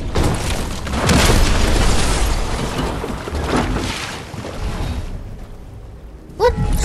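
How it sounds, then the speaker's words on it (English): A loud explosion booms in Fortnite, a dense roaring blast that swells and rolls for several seconds before fading, with a brief sharp sound near the end. "What just exploded?"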